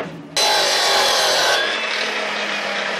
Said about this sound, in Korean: 자, 나무를 썰어 봅시다.